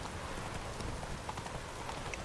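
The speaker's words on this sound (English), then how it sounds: "I'm gonna use my teleporting horse that just magically appears wherever the hell I whistle" A horse in The Witcher 3 video game clip-clops steadily across rainy island ground, with its hoofbeats washed into constant loud rain and game ambience.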